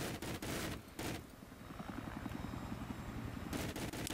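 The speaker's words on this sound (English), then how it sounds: "I want to show you guys how awesome this helicopter is here." A Russian attack helicopter in Battlefield 3 flies with a steady rhythmic rotor chop that carries throughout, broken by a few loud bursts of gunfire near the start and again at the end.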